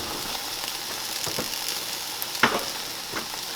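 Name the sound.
food frying in a pan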